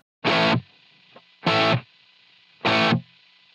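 Three short, heavily distorted electric guitar chord stabs played through a Line 6 Helix with no reverb, each cutting off abruptly into near silence, with a faint hum between them.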